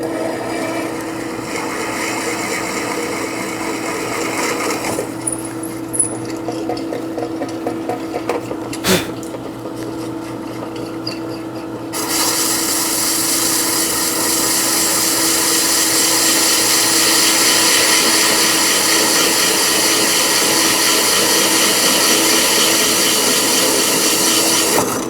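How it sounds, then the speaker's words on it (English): Power drill boring holes into a power supply enclosure, a steady loud whirring grind that deepens and intensifies partway through, with brief pauses and bumps between passes. "let's drill some holes."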